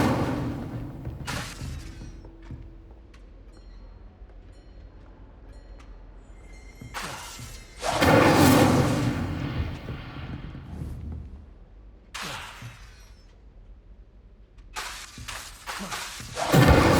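Casting the Incendio fire spell in the Hogwarts Legacy video game, loud bursts of roaring whooshing flame that flare and fade in three separate blasts over a low ambient background.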